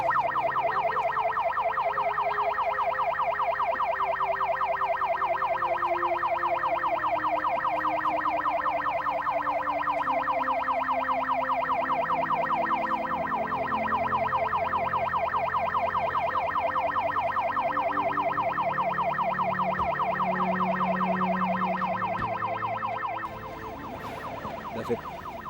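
An ambulance siren sounds during an Indonesian drama scene at an incident site, a steady, loud electronic tone that holds for over twenty seconds and then cuts off abruptly.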